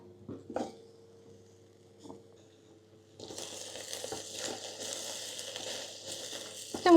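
A few faint knocks and clatters, then a sudden steady sizzle as cabbage hits hot fat in a pot, crackling on with a clunk at the end.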